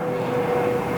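An airplane drones overhead, hidden in thick fog on a mountain in Taipei, as a steady, moderately loud engine rumble with no other sounds.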